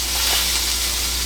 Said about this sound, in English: We're going to get a sear on all 4 sides.